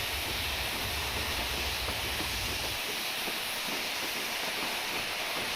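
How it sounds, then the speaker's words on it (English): A train in a Western Lines of Scotland train simulator game rumbles across a bridge, a steady hissing roll with a heavier low rumble that drops away partway through, fairly quiet and with no voices. "Audio being on a bridge is what we're hearing now."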